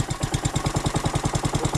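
A Honda HRX217HYA lawn mower engine runs at a steady idle close by, its rapid, even chugging pulses filling the space with no voices.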